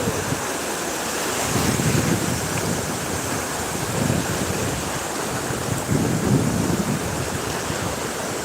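Sea waves roll onto Porthcawl beach in a steady, loud wash of surf, rising and falling in broad surges with heavy wind rumble on the microphone and no voices.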